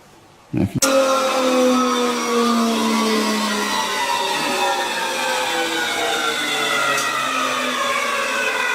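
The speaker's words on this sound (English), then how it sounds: "this machine is a pin router. It has a cutter, and directly under the cutter it has a pin bearing guide that follows any templates" A pin router, with a cutter set directly above a pin bearing guide, shapes wood for a mandolin in a luthier's workshop. It switches on abruptly, then holds a loud, steady, high whine whose pitch drifts slowly.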